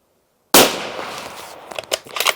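A single loud rifle shot from a Sauer 505 Ergolux on a 100-yard range: a sharp close crack with a long ringing tail, then a few faint clicks.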